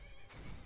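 A horse in the video game Skyrim gives a short, loud whinny that breaks in abruptly and then trails off.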